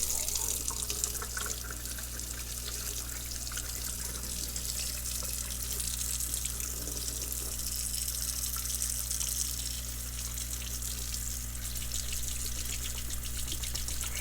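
Tap water runs steadily into a sink while a Morgan silver dollar coin is rinsed beneath it, making a constant close hiss and splash with no break.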